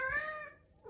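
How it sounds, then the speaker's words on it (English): A house cat gives a single clear, close meow that slides downward and fades, followed by a short soft vocal sound near the end. "that's my cat Sadie."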